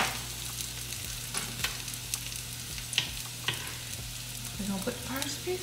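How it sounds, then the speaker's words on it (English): Onions fry in a pan on their way to caramelizing, giving a steady sizzle with scattered crackles and pops, plus a few light scraping taps of a utensil toward the end. "And I love, love, love caramelized onion."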